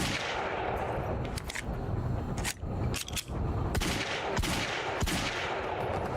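Heavy pistol fire in the video game Quantum Break: a string of sharp, irregularly spaced shots over a dense, loud wash of game ambience and rumble.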